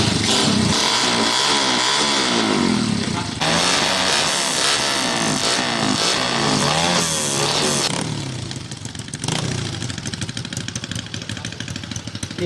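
Loud, rough engine drone from a motorcycle with a modified exhaust, held steady at idle, close up with a rattling, buzzing tone.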